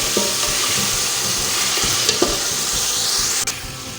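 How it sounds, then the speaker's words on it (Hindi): Beef pieces fry in a pot for nihari, a loud continuous sizzle broken by a few sharp clinks and scrapes of stirring, with no voices. "पहले हम गोश्त को फ्राई करेंगे"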